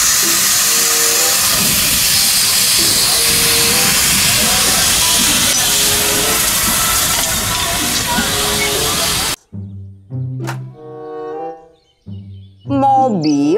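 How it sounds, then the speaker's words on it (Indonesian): A Thomas toy train lets out a loud, steady steam hiss lasting about nine seconds, then cuts off abruptly as a voice speaks over tonal sounds. "kereta Thomas"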